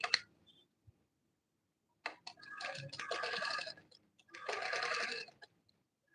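A sewing machine stitches satin bag pieces in two short motor bursts separated by pauses, with a few small clicks between, close and clear with no talking.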